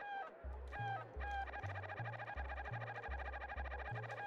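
Game chickens in Secret of Evermore clucking in rapid repeated bursts over a steady looping bass line of in-game music, bright and close, with no talking.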